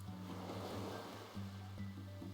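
Continuous soft surf from a Dragon Song Tavern video game wash under steady tonal background music, quiet and unbroken throughout.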